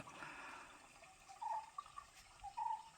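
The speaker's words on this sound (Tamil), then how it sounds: "தண்ணி வர்ற சத்தம் நல்லா இருக்குது." Soft, steady flow of water trickling and burbling outdoors on Sathuragiri hill, fairly quiet, with a few brief brighter gurgles rising above the constant wash.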